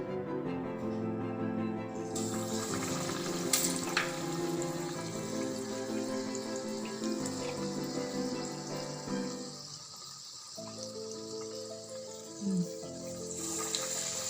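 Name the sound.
Gokul pitha dipped in batter frying in hot oil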